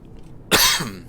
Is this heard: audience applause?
no